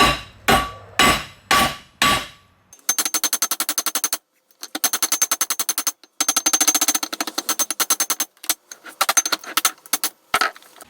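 Metal hammer strikes shaping a spoon ring on an anvil, first a few slow heavy blows, then long rapid bursts of quick ringing taps with short pauses between, close and loud with no talking.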